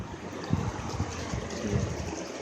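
Brake cleaner sloshed and shaken around inside a car's power steering reservoir, a close, irregular liquid swishing with a few stronger pulses over a steady hiss.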